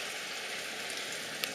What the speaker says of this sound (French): Il pleut encore un petit peu, mais comparé à ce qui est tombé, il ne tombe presque plus